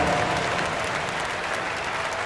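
A basketball crowd applauding steadily during a substitution, a broad continuous clatter of many hands at moderate volume, fading slightly toward the end.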